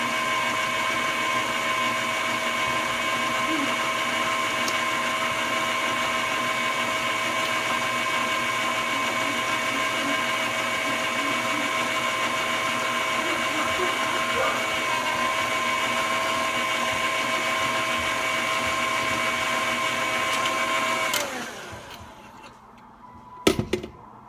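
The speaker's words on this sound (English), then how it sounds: "I'd say let it mix for about 2 minutes or so" An electric mixer whirs steadily at close range through cupcake batter for about twenty seconds with a constant high motor whine, then winds down and stops, followed by a brief clatter.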